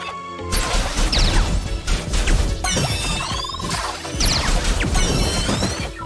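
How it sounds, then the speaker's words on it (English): Rubber band flicking shots in the video game CrossCode, with repeated sharp snapping hits mixed with crashing impacts and chirpy game effects in a busy, loud combat sequence. "It's just this perfect rubber band flicking sound."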